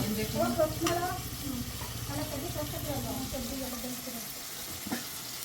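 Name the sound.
onions frying in pan for biryani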